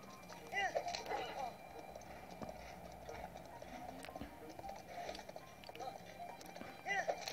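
A horse clip-clops and trots along in Zelda: Breath of the Wild, with steady hoofbeats rising and falling at moderate loudness over background game ambience and brief soft vocal sounds.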